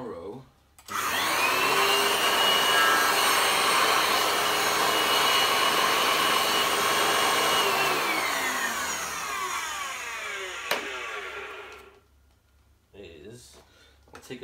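A vacuum cleaner starts after a moment and runs at a loud, steady whine for about ten seconds, then its pitch sweeps down as it switches off and spins to a stop.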